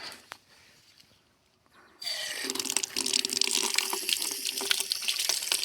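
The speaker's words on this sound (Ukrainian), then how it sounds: "І набираємо звичайної водопроводної" Ordinary tap water starts gushing from a faucet into a garden sprayer tank, a loud, steady rushing splash that follows a couple of seconds of quiet handling noises.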